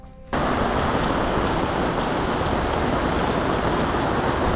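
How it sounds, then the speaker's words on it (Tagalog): Torrential typhoon rain pours down in a dense, steady roar that starts abruptly and stays loud and unbroken, with no voices. "bumubuhos ang napakalakas na ulan"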